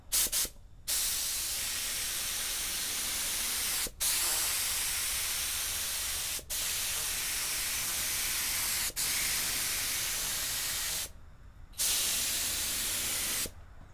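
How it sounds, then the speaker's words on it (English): A material spray gun sprays Eastwood rust encapsulator onto a fender in long, loud, hissing bursts, broken by several short pauses where the trigger is released, with no talk. "So let's try this rust encapsulator. Old gun here, old material gun, and put a little bit, spray it on"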